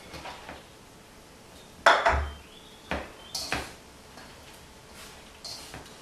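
Bell pepper and sugar go into a pan while cooking a pasta salad, heard as a few sharp clatters and scrapes of utensil against cookware spaced apart over quiet background, with no talking.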